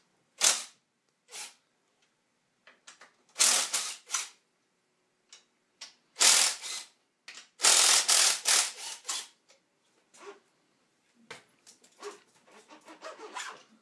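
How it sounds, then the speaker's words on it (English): Mechanical clicks and ratcheting as bolts are loosened on the front forks of a 2013 KTM 250SX motocross bike, coming in scattered short bursts with gaps of quiet between them, fairly close. "Make sure you hold it while you're loosening the bolts, or else it will fall out to the ground"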